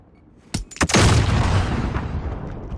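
Grenade blast in a competitive shooter game: a couple of sharp cracks followed by a loud, broad explosion with a long rumbling tail that fades over about two seconds, heard alone and up close.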